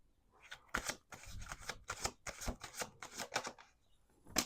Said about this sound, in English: Let's do two more shuffles.